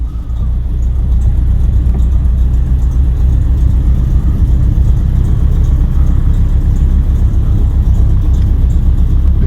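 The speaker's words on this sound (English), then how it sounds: "Let's just creep out of here without hitting all those wheels I seem to have acquired." A Citroën 2CV engine creeps slowly out of a cramped garage, giving a steady, close, low rumble that holds at an even level throughout, with no voices.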